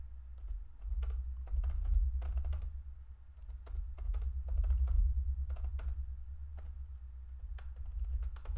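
Lorem placeholder paragraphs for an HTML page are typed on a computer keyboard in quick, rhythmic runs of crisp clicks, separated by brief pauses over a low steady hum.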